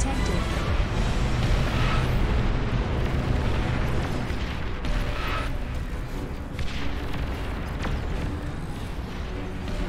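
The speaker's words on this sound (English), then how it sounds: "Nuclear missile launch detected." A nuclear missile launch in the real-time strategy game Beyond All Reason gives a dense, roaring rumble that fills the whole clip and rolls on loudly, with bursts and booms layered through it.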